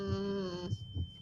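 A heartbeat sound effect in a Gacha animation gives two soft, low thumps in quick succession after a held tonal hum cuts off.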